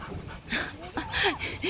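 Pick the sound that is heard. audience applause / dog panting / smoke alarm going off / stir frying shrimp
dog panting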